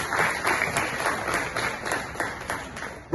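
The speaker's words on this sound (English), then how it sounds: "they deserve a round of applause." An audience at a Nigerian Idol Season 10 judges' discussion breaks into steady applause, a dense wash of many hands clapping at moderate distance, continuous throughout without talk over it.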